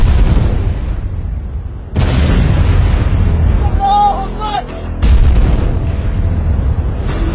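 Battlefield artillery and multiple-barrel rocket launcher fire, loud heavy booms near at hand in a sustained barrage, with a sharp fresh volley around two seconds and another near five seconds.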